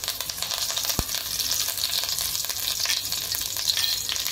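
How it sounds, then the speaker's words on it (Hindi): Curry leaves hit hot oil in a kadai while making green tomato chutney, producing a constant close sizzle with one sharp knock early on and fine spitting crackles, no talking. "यहाँ कड़ी पत्ता डाल देते हैं"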